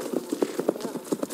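Horse hooves clip-clop in a quick, regular rhythm in a fort-attack video game, a close, clear trot of evenly spaced hoofbeats with no talking.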